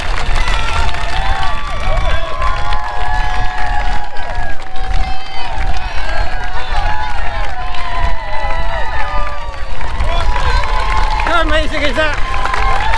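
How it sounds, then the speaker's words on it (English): A dense crowd lining the Tyne Bridge in Newcastle cheers, whistles and shouts continuously as Great North Run half-marathon runners pass, loud and close, with clapping and a runner's voice mixed in. "Running across the Tyne Bridge with all the people in Newcastle out to support and cheer"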